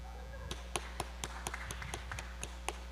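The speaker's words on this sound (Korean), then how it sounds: "민재를 위해서 박수." Scattered hand claps for Minjae from a small group, sparse and uneven taps over a steady low hum, fairly quiet and without talk.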